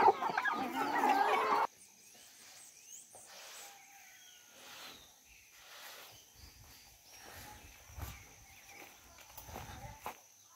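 Free-range backyard chickens raised for meat cluck and call in a burst at the start, then scattered softer clucks and footsteps follow at moderate distance.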